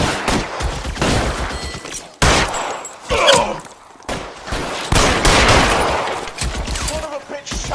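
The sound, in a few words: gunfire in LA Noire video game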